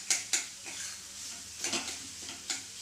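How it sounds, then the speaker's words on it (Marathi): A whole roasted eggplant is mashed and broken up in a pan over a gas flame, giving several sharp scraping and tapping impacts of a utensil against the pan at an uneven pace, close up and with no talking. "बारीक भुगा करायचा आहे आपल्याला त्याचा वांग्याचा गॅसवरच."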